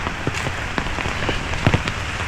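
Heavy rain falls at a small fish market in Jaffna, a dense, constant patter on surfaces close by with scattered louder drips and taps.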